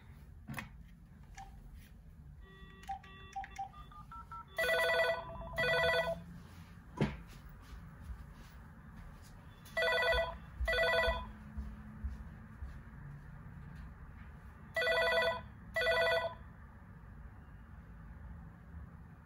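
An AT&T EL52303 DECT 6.0 cordless phone rings in three paired electronic bursts spaced evenly apart, loud and close, with a few softer beeps before the first ring and quiet room noise between.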